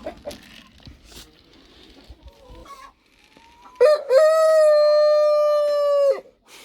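Chickens on a farm at feeding time cluck, then a rooster gives one loud, close, sustained crow lasting about two seconds, with quieter bird noises and faint talk before it.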